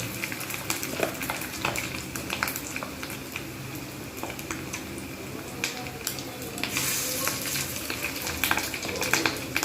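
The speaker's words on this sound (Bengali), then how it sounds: "এরকমভাবে আমি প্রতিটা ভেজে নেব" Fish roe fritters frying in oil in a wok, a close, continuous crackling sizzle dotted with sharp pops and spatters, steady throughout with no voices.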